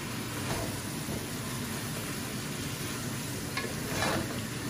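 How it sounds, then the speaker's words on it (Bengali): Green chilies and sugar stirred through a sizzling spice paste frying in a pan, a steady close sizzle with soft scraping strokes of the spoon, no talking. "নাড়াচাড়া করিলাম।"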